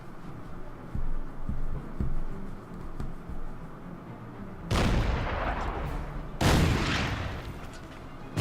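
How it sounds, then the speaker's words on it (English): Artillery in the wartime strategy game Order of Battle: Sandstorm, set in the desert, fires two loud booming salvos with rumbling tails, preceded by quieter thuds of distant gunfire and no talking. "The artillery fires."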